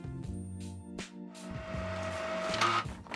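An Epson XP-4200 inkjet printer runs a nozzle check page, with a rhythmic series of motor whirs, clicks and carriage sweeps, close and moderately quiet in a calm room.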